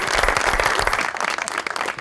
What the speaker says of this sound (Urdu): بہت ساری تالیاں ڈاکٹر صاحب کے لیے جی